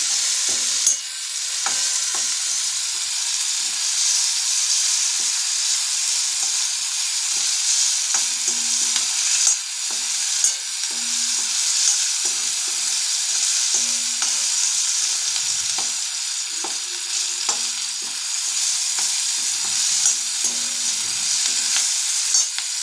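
Onions frying in a pan with a pinch of salt, stirred continuously: a steady close sizzle with repeated scraping and stirring strokes throughout, no voices.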